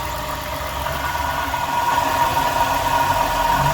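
Abnormal noise from a customer's car engine in a repair shop, a steady idling drone with a faint rhythmic knock and a thin whine riding above it, fairly close and with no talking.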